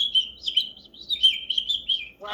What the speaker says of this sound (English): you get these little birds that chirp